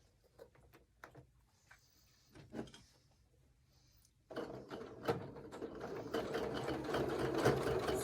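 A sewing machine stitching a fabric ornament starts after a few soft clicks and handling sounds, then runs in a close, moderately loud, steady whir for the last few seconds.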